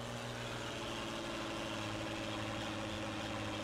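A tractor engine in Farming Simulator 19 drones steadily as it climbs hills, a constant low, even hum with no pauses and no voices.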